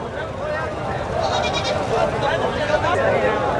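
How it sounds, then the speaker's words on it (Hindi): Goats bleat in a short burst through the crowded din of a livestock market, with people talking nearby. "ये भी आप बकरे देखें माशाल्लाह"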